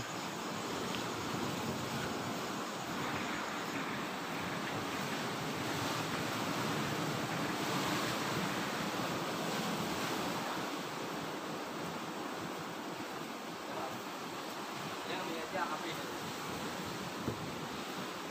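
Seaside ocean waves wash in a continuous broad roar mixed with gusting wind buffeting the microphone, steady and close for the whole stretch, with no voices.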